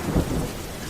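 A thunderclap in a storm with heavy rain, a short low boom that swells and fades within a second over a steady rain hiss.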